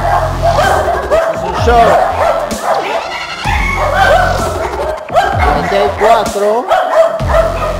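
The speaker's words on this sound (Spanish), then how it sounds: "estos perros se pelean" Aggressive Silky Terriers bark, yip and whimper in a chaotic house, with rapid overlapping barks close by while a person talks over the commotion.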